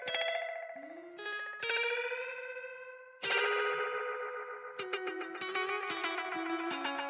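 A classic Italian Echo B2 tube echo machine app on iOS at setting 2, tonal notes ringing out with repeating echo tails and chorus-like shimmer, sustained phrases that restart with sharp attacks, clear and up front with no voices.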